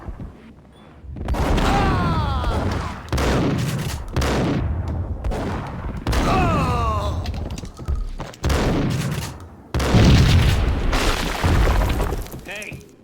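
Loud, booming explosions and crashing debris erupt in a firefight scene from the video game Max Payne, several heavy blasts in succession layered over a dense, rumbling background.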